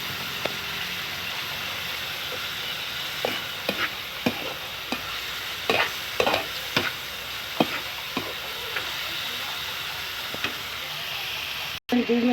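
Bitter gourd (ampalaya) with egg sautés in a pan, a steady hiss of frying dotted with scattered clicks and scrapes from stirring, close up, with a voice speaking at points.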